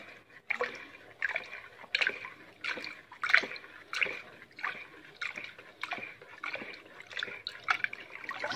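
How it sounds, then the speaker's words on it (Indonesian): Rice-washing water mixed with palm sugar is stirred in a container for a fermentation liquid, giving soft rhythmic sloshing and dripping strokes roughly every half second, close and fairly quiet. "Air yang sudah dicampur dengan gula atau air leri yang dicampur tadi dengan gula merah, kita aduk"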